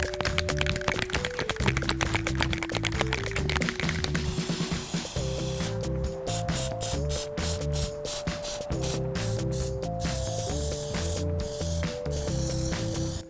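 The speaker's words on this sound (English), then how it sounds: "I'm going to hit this with some Plastidip now, and that'll give it that nice uniform coating" Plastidip rubber coating sprayed from an aerosol can onto a foam prop shoulder pauldron, heard as repeated short hissing bursts under steady background music.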